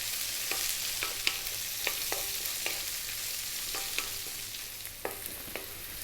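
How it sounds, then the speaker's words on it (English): Onion and garlic frying over high heat in a pan, a steady sizzle broken by the scrape and clack of a utensil stirring and keeping it moving, close and alone. "Then we're going to go onion and garlic. Keep it on a high heat. Keep it moving"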